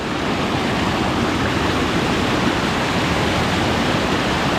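Tada (Ubbalamadugu) Waterfalls in Andhra Pradesh roar with heavy rushing water, a loud, dense, unbroken wash of noise close by, without talk.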